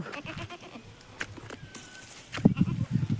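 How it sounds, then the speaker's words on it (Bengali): Village goats tethered at a rural home give a few short bleats near the end, over quiet background noise and faint scattered sounds. "এই যে ছাগলগুলো বসে আছে"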